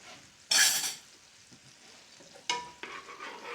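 A pat of butter melts in a hot pan with salmon and rosemary-lemon sauce, giving a loud sizzle burst and then softer crackling and bubbling, close up, with no voices.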